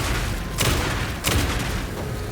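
Gunfire from a magazine being emptied in Alan Wake 2's Lakehouse DLC: two loud, dense bursts of rapid shots about half a second apart, over a steady rumbling game background.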